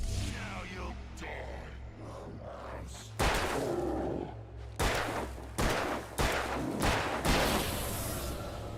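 Gunshots in Alan Wake come as a string of loud, sharp blasts, spaced about a second apart in the second half, over a low ambient rumble with some grunting early on.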